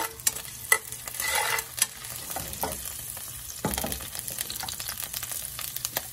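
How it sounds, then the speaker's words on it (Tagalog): Garlic sizzling in hot cooking oil for a shrimp and string bean dish, a soft continuous crackle punctuated by several sharp metallic scrapes and taps as it is stirred, close but fairly quiet. "Mainit na mantika. Ilagay ang bawang."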